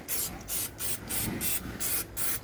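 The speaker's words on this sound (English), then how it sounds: "Spray me a little bit of non-stick on there." Non-stick cooking spray hisses onto a hot grill in six short, evenly spaced bursts, close and crisp, for cooking salmon fillets.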